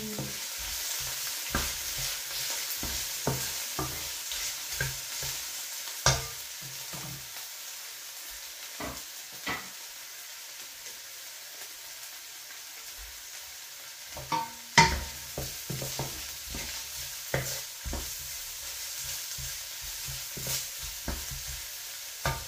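Onion and garlic sautéing in a pan, a soft steady sizzle with repeated spatula scrapes and knocks at an uneven pace, a quieter stretch in the middle before the stirring picks up again, no speech.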